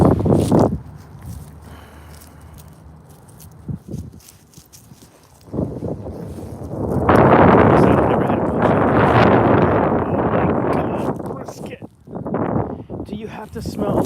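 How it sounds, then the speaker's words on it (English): Strong gust of wind on an outdoor walk with a dog in hoodie weather, swelling into a loud, broad roar against the microphone for several seconds before easing, with people talking around it. "That was a big gust."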